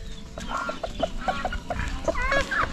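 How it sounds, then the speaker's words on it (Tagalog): Native chickens in a growing backyard flock cluck in a steady run of short, repeated notes, fairly close and moderately loud over faint outdoor background. "dito dumadami yung aking mga manok"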